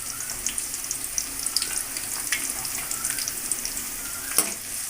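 Onions frying in a pan while being stirred for a chickpea curry, a steady close sizzle with light scraping and stirring clicks throughout, no voices.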